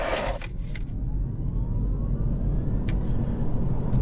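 A Mini in Sport Plus mode pulls hard from a standstill on a straight 60 mph road, a faint, steadily rising whine over a constant low rumble of road and cabin noise.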